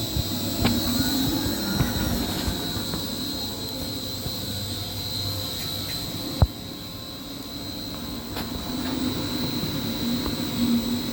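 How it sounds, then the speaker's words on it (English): Blau KBL domestic booster pumps kicking back on and running, a steady mechanical hum with a high whine and one sharp knock partway through, no talking. "There I'm having a little bit of demand right now, and the pumps just turned back on."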